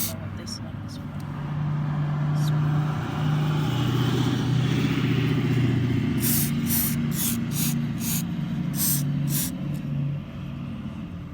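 An aerosol can of WD-40 hisses in short bursts while being sprayed onto a squeaky car door. Speech runs alongside, and a droning engine-like rumble sits underneath.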